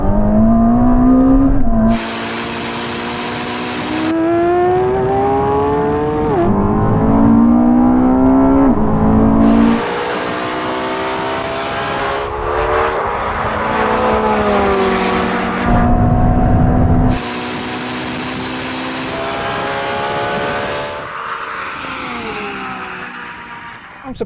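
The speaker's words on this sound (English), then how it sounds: "race over the half mile, but this time we're going to be pulling from third gear from 50 miles an hour" A Ferrari SF90, a Lamborghini Revuelto and a 2015 Porsche pull hard from 50 mph in third gear over a half-mile race, engines roaring loud and close with repeated rising pitch sweeps as gears change.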